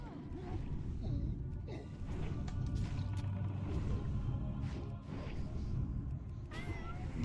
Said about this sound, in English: Do you like the little meow there?